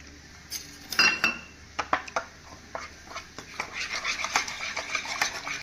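A spoon mixes chili, turmeric, coriander and cumin powders with water in a small bowl, giving quick metallic clinks and scrapes in an uneven rhythm, close and fairly quiet.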